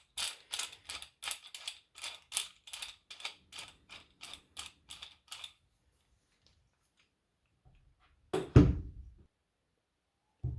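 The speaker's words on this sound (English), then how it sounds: "Right, that's clamped onto the bench now." A Parkside DIY bench vice with 50mm jaws is clamped onto a workbench: a steady run of about a dozen crisp ratcheting clicks, then a pause and one heavy thud, with no talking.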